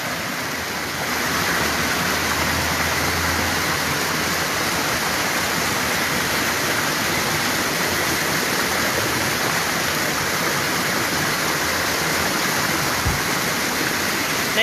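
Flood water rushes steadily in a flash flood, a dense, constant roar that stays loud and unbroken from start to finish with no voices.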